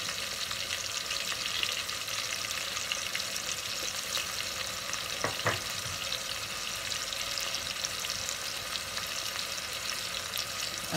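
Garlic and onion paste sizzling in a frying pan for a kadai dish, a constant hissing fry that holds steady throughout, with a couple of faint utensil knocks midway and no speech.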